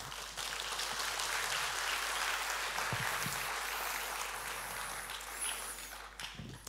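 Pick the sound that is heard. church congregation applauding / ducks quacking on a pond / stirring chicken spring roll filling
church congregation applauding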